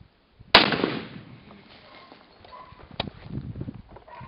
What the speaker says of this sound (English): All right, Scott's now going to shoot the same weapon with a John's Guns can, specifically designed for this gun by Brent Hemphill.